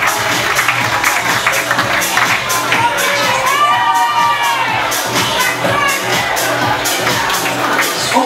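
Audience at a fashion show in a bar, loud crowd cheering and whooping with steady applause, including high children's shouts, continuous throughout.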